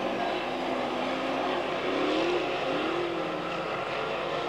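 Dirt modified race cars roar around 5 Mile Point Speedway during Southern Tier 100 qualifying, a steady loud engine drone with rising and falling pitch as a car drives down into turn one.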